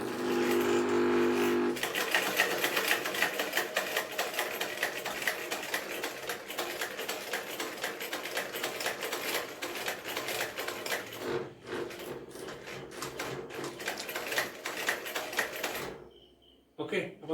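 An Usha sewing machine fitted with a newly installed electric motor runs steadily at close range, a dense rattling mechanical whir that carries on for most of the stretch before cutting out near the end.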